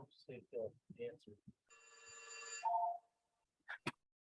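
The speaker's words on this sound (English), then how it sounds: "I'm calling my phone, to see if he'll answer." A telephone rings once in a council meeting room, a bright electronic ring lasting about a second, close and clear, with brief talk before it and a short tonal blip afterward.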